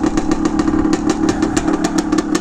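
A 1978 Harley-Davidson MX250 motorcycle engine, kickstarted stone cold, runs close by at a rough, lumpy idle, its rapid uneven firing pulses clattering loudly and continuously.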